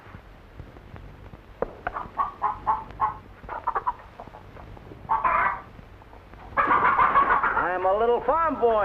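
Chickens clucking on a farm, with a series of short rhythmic clucks, then louder sustained squawking and warbling calls near the end, under a steady background hum while someone speaks briefly.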